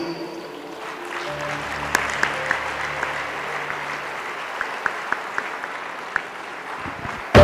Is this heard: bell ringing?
no